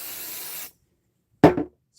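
A single short spray burst aimed at a quilt sample, preceded by a longer steady hiss that cuts off, then quiet; close and fairly loud.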